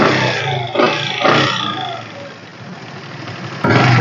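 A used Bajaj Platina motorcycle with its engine in good condition is started close by. Two quick sputtering bursts lead into a lower, uneven putter, and a louder idle kicks in near the end.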